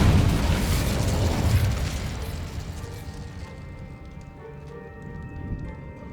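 An Incendio fire spell in a wizard wand-dueling video game erupts in one loud, close blast that rumbles and fades over a few seconds into quieter background.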